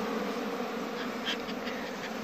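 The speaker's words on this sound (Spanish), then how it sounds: "Está a reventar de abejas." A dense, continuous drone of many honey bees buzzing close by at a packed hive, with a few individual bees swelling louder as they pass.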